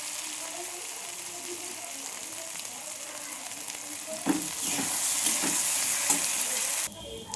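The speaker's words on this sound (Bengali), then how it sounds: "আমার পেঁয়াজ ভাজা হয়ে গেছে।" Onion with ginger and garlic paste sizzles in a pan, a steady hiss of frying. Louder stirring scrapes come partway through and continue as a close, continuous kitchen sound.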